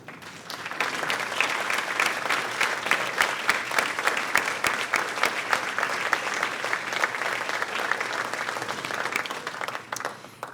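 Members of the Clark University alumni board are applauded at an alumni recognition breakfast: a room-filling burst of clapping that swells quickly, holds strong and even for about nine seconds, then tapers off.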